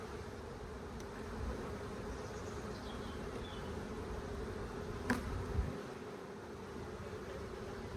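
Honeybees buzz in a steady, dense drone throughout a full hive inspection at an apiary, with a couple of brief clicks or knocks near the middle and no talking.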